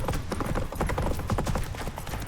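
Hooves of Roach, a horse in The Witcher 3, gallop in a fast, continuous clatter that stays loud and dense throughout, with faint background noise and no clear speech.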